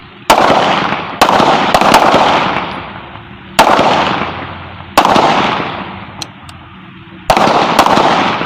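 Sharp, loud gunshots from pistols and a gun at a firing practice range, fired singly in an irregular sequence of roughly eight cracks, each followed by a long echoing decay across the open ground, with no talking.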